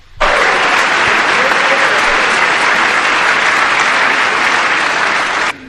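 An audience applauds Donald Trump's speech, breaking into loud, sustained clapping that holds steady for about five seconds before stopping abruptly, with no voices over it.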